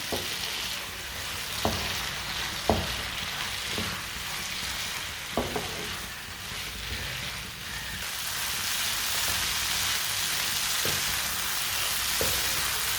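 Food cooking in a pan over a medium flame, a steady close sizzle like light rain, punctuated by sparse spoon taps against the pan.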